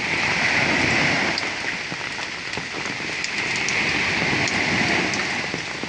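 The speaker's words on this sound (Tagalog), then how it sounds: "Ang ulan talaga grabe. Malakas." Heavy overnight rain pours steadily onto surfaces in a dense, continuous hiss with scattered drop patter, loud and unbroken throughout, with no voices.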